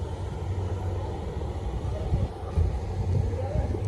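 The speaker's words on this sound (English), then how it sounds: "listen to that V8 purr" A low, steady V8 engine rumble idling nearby, with a deep throaty hum and slight fluctuations, mixed with some outdoor background noise.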